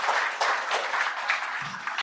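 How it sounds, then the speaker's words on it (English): Warm applause from a conference audience for a panel, a dense, steady patter of many hands clapping throughout at a consistent level. "a warm round of applause for our panelists"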